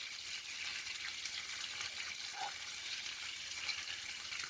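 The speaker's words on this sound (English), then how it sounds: "the bacon that I'm cooking right now" Bacon frying in a pan gives a steady, even sizzle with a fine crackling hiss that holds at a constant level for a few seconds, with no talking over it.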